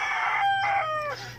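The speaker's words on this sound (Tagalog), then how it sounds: "sorry po, may manok ah." A rooster crows in the provincial countryside: one moderately distant cock-a-doodle-doo with a rising then falling drawn-out call, heard alone over faint background hum.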